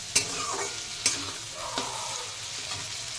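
Food frying in a pan while being stirred, a close, continuous sizzle broken by a few sharp scrapes and knocks of the spoon against the pan, with no talking.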